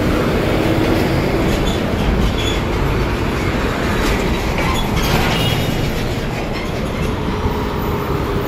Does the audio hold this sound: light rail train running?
yes